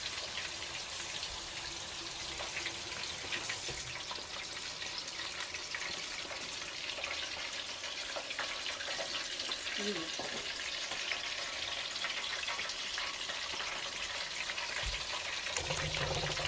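Battered chicken wings deep-frying in hot grease for Chinese takeout-style wings, a steady loud crackling sizzle throughout with occasional stirring clatter.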